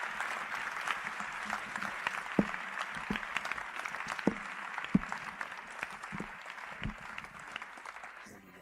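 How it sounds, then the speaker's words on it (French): A church congregation in Mampong, Ghana applauding, fairly faint and distant clapping sustained over several seconds with scattered louder claps. "Applaudissez pour Jésus."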